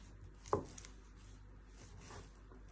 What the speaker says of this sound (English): So just slice them into little pieces.